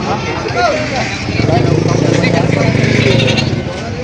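Goats bleat repeatedly amid a noisy crowd, with people chattering and an engine rumbling in the background of a busy outdoor goat market in Padre Garcia, Batangas.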